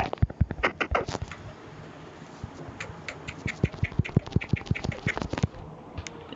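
Chickens in the video game Minecraft let out a rapid series of short, close clucks, irregular and clustered, with brief pauses between bursts.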